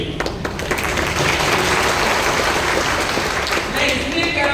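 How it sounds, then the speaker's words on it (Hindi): Audience at a Hindi comedy poetry gathering (hasya kavi sammelan) breaks into loud, sustained applause that swells after a brief moment and continues steadily, with some voices mixed in. "ताली एक बार बजाकर बताइए"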